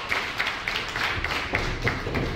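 A wrestling crowd at the Franklin Horner Community Center claps in a steady rhythmic beat, roughly three claps per second, echoing through the hall.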